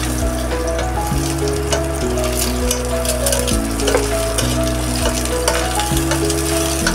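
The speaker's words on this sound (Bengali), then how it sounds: "তো ডিমগুলো তো আমার লাল লাল করে ভাজা হয়ে গেল" Eggs frying in a pan for a Bengali egg bhuna recipe. Steady, close sizzling crackles throughout under a repeating low musical backing, with no talk.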